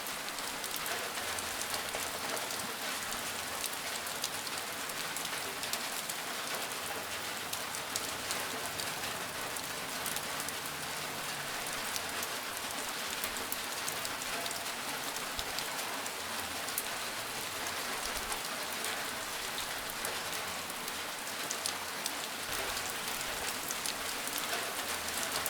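Gentle rain falls steadily on a surface, a soft even patter that fills the whole stretch at constant low volume, with no voices.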